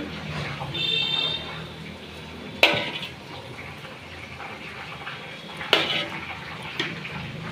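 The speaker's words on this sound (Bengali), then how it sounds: "ভাতটা নাড়া দিচ্ছে, আবার সব মিলাচ্ছে ওগুলো দিয়ে" Biryani rice with chicken and ghee is stirred in a pot. Soft scraping and shuffling fill the background, broken by two sharp metallic clanks of a utensil against the pot.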